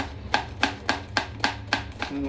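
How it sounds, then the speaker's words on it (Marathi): A knife finely chops a bunch of green chillies on a board in a steady run of seven crisp, evenly spaced knocks, close and clear over low kitchen background noise. "आणि आता मिरच्या अशा सगळ्या एकत्र मिरच्या करून बारीक बारीक अशा मिरच्या कापून घ्यायच्या"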